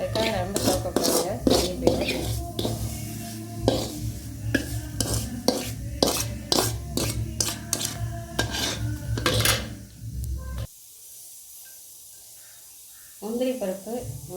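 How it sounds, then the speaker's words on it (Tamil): Semolina being stirred and roasted in a pan for kesari, with rhythmic scraping and clinking of a utensil against the metal pan for about ten seconds, then a near-silent pause before stirring resumes, and a voice speaking over it. "ரவை நல்லா வறுத்தாச்சு. இந்த மாதிரி செவக்காய் வறுத்தாத்தான் கேசரி வந்து நல்லாயிருக்கும்."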